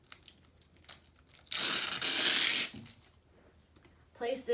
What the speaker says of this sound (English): I just simply took the tape off of the wrapper